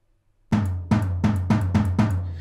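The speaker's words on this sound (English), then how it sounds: "that's the sound of the tom as heard by the room microphones" An acoustic drum kit tom from a virtual drum sampler, heard only through the room microphones, strikes five times in quick even succession after a brief silence, each hit booming with roomy ambience and a lingering decay.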